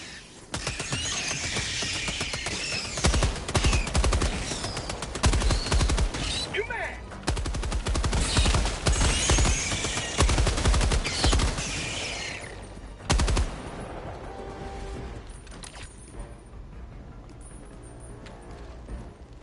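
Sustained bursts of machine gun fire in the Helldivers 2 video game, rapid and loud for several seconds, then dropping away to sparse shots and quieter ambience.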